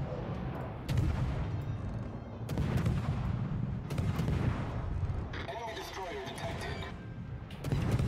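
Naval guns firing in World of Warships, the video game, sounding as repeated heavy booming salvos with rumbling tails that land in bursts every second or two, loud and close, over continuous battle noise.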